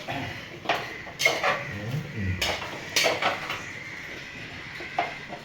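Metal spoon scrapes and clanks against a pot while potato, plantain and brinjal are stirred for a wedding-style chicken biryani, a run of close, irregular clinks and scraping strokes with no talking.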